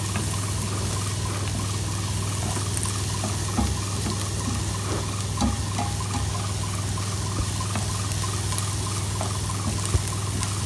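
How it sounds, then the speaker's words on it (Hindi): A little water is poured into an omelette mixture, seasoned only with salt, for a Spanish omelette, making a soft steady trickle over a constant low hum, with no talk. "हमने थोड़ा सा इसमें पानी डालना है, थोड़ा सा, बिल्कुल थोड़ा सा पानी डाल के"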